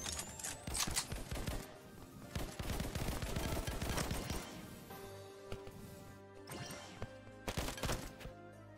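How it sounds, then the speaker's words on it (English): An assault rifle fires in the browser shooter ev.io in repeated quick bursts, loud and close, with crashing impacts, then tapering to sparser shots over music. "Gotta rely on the assault rifle that I'm not good with."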